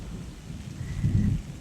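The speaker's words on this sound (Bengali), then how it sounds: "বাবা কি হাওয়া দিচ্ছে মেঘ গুড় করছে" A brief low rumble of thunder swells and fades beneath a steady hiss of strong wind and heavy rain.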